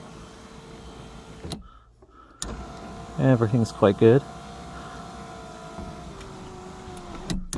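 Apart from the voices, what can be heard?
Fiat Tempra electric sunroof sliding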